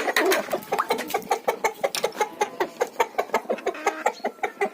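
A rooster clucks in a quick, regular series of short, close calls, several per second, with no voices, in a poultry yard.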